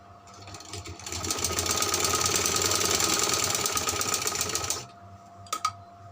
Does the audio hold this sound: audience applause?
no